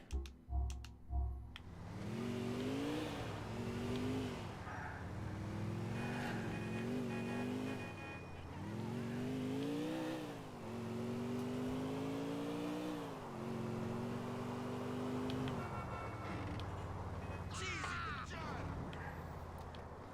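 A car engine roars and revs steadily with shifting pitch in the video game Grand Theft Auto IV, a continuous driving drone with a brief crash-like burst near the end.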